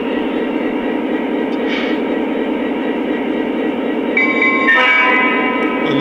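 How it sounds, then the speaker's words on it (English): Steady rumble of a Lionel Great Northern SD45 model train running, with a small bell ringing and then a whistle sounding near the end. "waiting for the bell and whistle to go on, which we heard"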